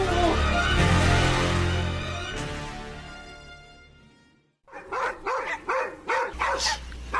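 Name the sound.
dogs barking at night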